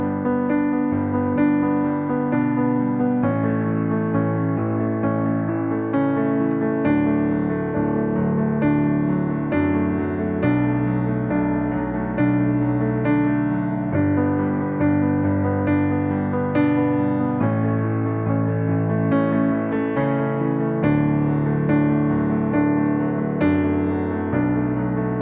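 Piano plays the accompaniment to a song, steady chords over low bass notes with regular chord changes every few seconds, clear and close with no voice.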